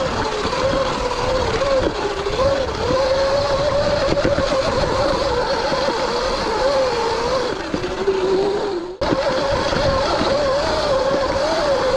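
A Sur-Ron electric dirt bike runs through sand at full throttle, its motor whine rising and falling close by over rough churning noise, briefly cutting out near the end before surging again, with no talking.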